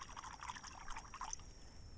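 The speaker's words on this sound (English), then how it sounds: "And now this is just clean water, fresh water. I'm going to dump it in that," Clean fresh water is dumped out to rinse parts before soldering, giving a faint bubbling, gurgling pour for about a second and a half that then fades to a quiet trickle.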